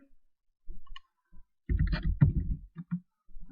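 A computer mouse clicks while working in 3D modelling software. There are a few short, isolated clicks, close and sparse, separated by brief silences.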